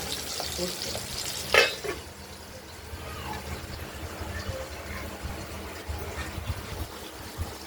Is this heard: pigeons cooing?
no